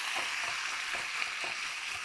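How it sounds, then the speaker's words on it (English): Fish pieces hit a hot pan of oil and sizzle steadily, a bright continuous hiss with faint crackles that holds level and close throughout, with no talking. "So I'm just dumping this in my pan here"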